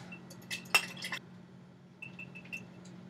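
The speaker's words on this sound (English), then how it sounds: "Egg wash is 1 egg and 1 tablespoon of milk. A little whisk." A fork whisks one egg and a tablespoon of milk into egg wash in a glass bowl, giving a few faint clinks and one sharp tap, then a light run of quick, quiet clicks over a low background hum.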